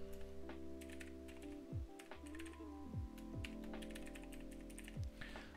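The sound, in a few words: typing on a computer keyboard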